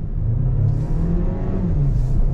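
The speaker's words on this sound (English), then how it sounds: "Let's do another on throttle here from a dead stop." A 2022 VW Taos small SUV with a turbocharged inline-four accelerating at full throttle from a dead stop, a steady loud engine drone and whir rising gradually in pitch, heard from inside the cabin.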